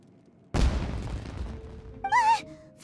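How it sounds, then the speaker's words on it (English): A single sudden boom goes off in Genshin Impact, a loud close blast with a rumbling tail, followed by a brief whistling game effect. "Was that an explosion? It sounded like fireworks."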